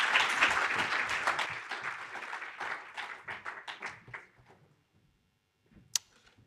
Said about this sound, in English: We can give them another hand of applause,